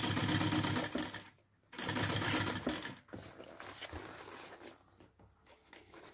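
A sewing machine stitches a fabric bag in several bursts of rapid, buzzing whirr separated by short pauses, fairly close and steady during each run, with no talk.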